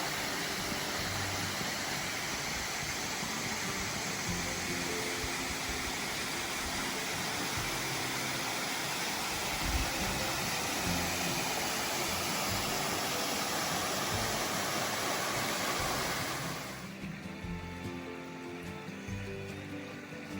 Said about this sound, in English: So the waterfalls you just saw, that was going up Little Ugly Creek.